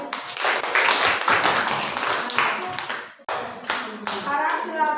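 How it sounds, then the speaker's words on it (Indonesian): A classroom of students claps for a student group during an Islamic religious education lesson, a dense burst of many hands that fades briefly and then picks up again. "Ya, tepuk tangan untuk kelompok 1 ya."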